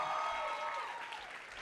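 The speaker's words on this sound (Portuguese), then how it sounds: "vamos dar uma salva de palmas para Jesus" Audience clapping at an evening church gathering, a steady wash of applause fading slightly over under two seconds, with no voices over it.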